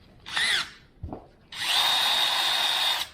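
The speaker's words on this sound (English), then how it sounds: "you can make it a little bit quicker by connecting one to an electric drill" A power drill fitted with a wire brush whirs briefly, stops, then spins up again into a sustained high whine with a scratchy, brushing edge.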